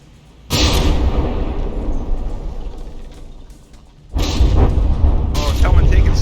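Battleship gunfire and shell hits in the video game From the Depths: a sudden loud roaring blast that rumbles and fades over several seconds, then a second heavy burst of booming fire, with someone talking over it.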